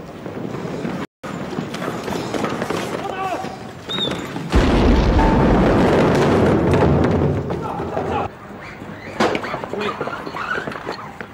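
Explosions in a police action drama: heavy booms and thuds over a noisy scene, the loudest blast swelling in the middle, with voices shouting around it.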